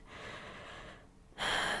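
A dying ender dragon's labored breathing in roleplay, heavy rasping exhales followed by a sharp, loud gasping intake of breath up close, with no talking.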